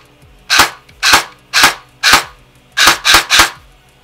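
A Cyma M16A1 airsoft gearbox firing in semi-auto, seven loud sharp screechy cracks close by, the first four evenly spaced and the last three in a quicker burst.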